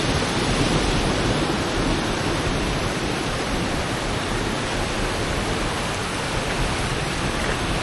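Rainwater rushes at high volume down a creek at the bottom of a hill in West Virginia during the rain season, a dense, steady roar of flowing water filling the whole clip without pause.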